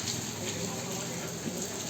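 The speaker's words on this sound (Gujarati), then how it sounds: "વરસાદ ચાલુ જ છે." Steady rain falling outdoors, a soft, even hiss that continues without pause, faint and distant, with a hint of a voice underneath.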